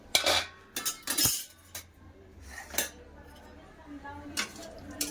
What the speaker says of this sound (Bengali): তরকারিতে জল দিয়ে দিলাম এবার ঢাকা দিয়ে দেবো